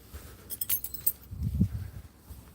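Keys jangle in a few quick metallic clinks and rattles up close, followed by a softer shuffle of handling.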